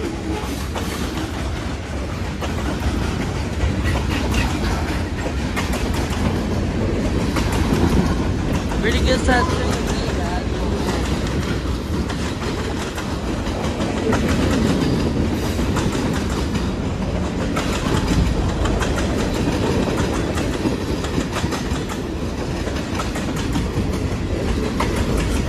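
A Marquette Rail freight train rumbles steadily past close by in Bitely, Michigan, its wheels clattering on the rails throughout, while someone briefly speaks.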